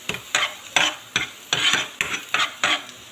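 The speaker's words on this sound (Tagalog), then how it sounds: "Medyo palutungin natin ang bawang." Garlic sautéing in a pan gives a steady sizzle, broken by about eight regular scraping stirs that sound close and crisp, with no one talking.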